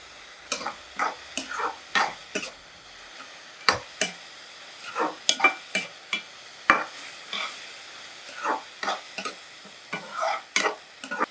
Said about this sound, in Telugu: ఈ కొంచెం పచ్చివాసన పోయే వరకు కాస్త వేగనివ్వాలన్నమాట ఇవి వేగుతూ ఉంటాయి